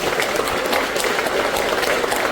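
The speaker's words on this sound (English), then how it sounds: "You've got to give yourself a bigger round of applause." An audience at the inauguration of Cisco's first manufacturing facility in India applauds steadily, a dense, even wash of many hands clapping throughout, with no pauses.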